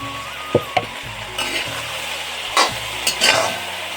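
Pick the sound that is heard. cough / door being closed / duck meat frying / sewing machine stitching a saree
duck meat frying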